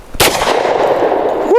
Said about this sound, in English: 200 grain hard cast from Double Tap 10 mil out of a 6-inch 10 mil